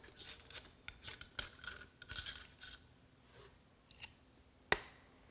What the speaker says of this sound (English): I take a screwdriver and remove the knockout hole.